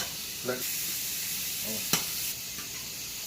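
A quarter cup of butter melts in a pan with a steady, close sizzling hiss, marked by a couple of short knocks and clinks against the pan.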